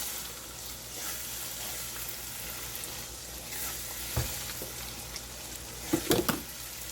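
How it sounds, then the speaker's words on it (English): A pot of party jollof rice, seasoned with a chicken Maggi cube, is stirred while it sizzles steadily. A few sharp spoon knocks and scrapes against the pot stand out near the end, close and fairly quiet. "I'm going to turn it together."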